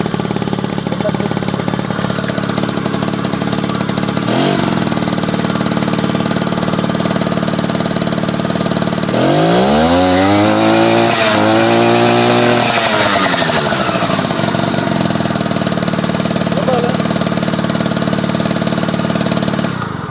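A 50cc moped engine fitted with an Airsal cylinder runs loud and steady, a buzzing two-stroke drone that revs up and falls back in a sweeping rise midway before settling to a constant idle.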